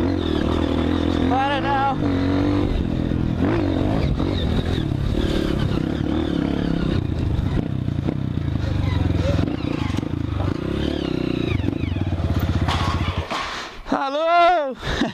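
Motorcycle engine straining and revving on a rocky mountain trail at Ibituruna in Governador Valadares, Brazil, loud and continuous with clattering over stones, voices shouting over it, and a brief drop near the end.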